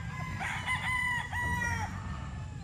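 A 5K Sweater gamefowl rooster gives one clear, drawn-out crow of about two seconds at moderate distance, with soft background chatter and faint clucks.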